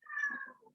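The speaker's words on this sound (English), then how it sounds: "I'm getting a meowing cat here." A cat lets out a single drawn-out meow, fairly faint and somewhat distant, rising and then trailing off into a soft tail.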